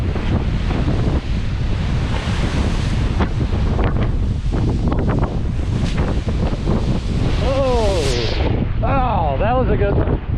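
Waves crash onto the Lake Huron shore in Michigan's Thumb with the water high, a loud roaring wash buffeted by strong wind noise on the microphone, ending in swirling splashes as water rushes in close.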